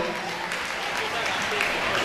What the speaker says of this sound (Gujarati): તો જોરદાર તાળીઓથી એમને વધાવી લઈએ।